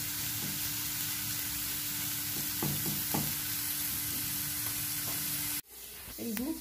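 Chopped onion frying in a pan with a steady, even sizzle that is suddenly interrupted near the end, followed by a few soft clatters.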